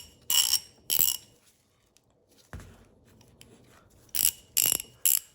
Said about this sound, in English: there's nothing protecting the teeth of the pawl here with the gears of the ratchet head